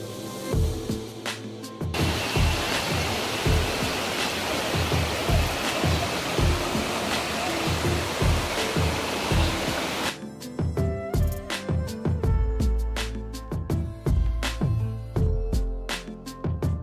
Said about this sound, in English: Manjehalli Waterfall is also known as Abbi Falls.